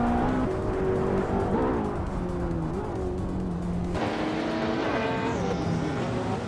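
A 1995 McLaren F1 GTR racing in a video game, its engine droning loudly and continuously with shifting pitch as it accelerates and changes gear, with a brief tire squeal near the end.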